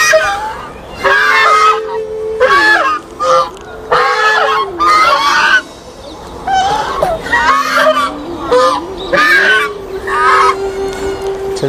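Large domestic ducks kept at a Hindu temple honk again and again in loud, close bursts over about twelve seconds, with bird calls overlapping, a steady tone running beneath and a voice now and then.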